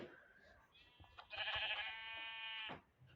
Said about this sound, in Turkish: Aa lan 3 tane koyun var.